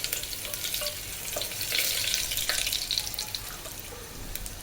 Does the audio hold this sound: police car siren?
no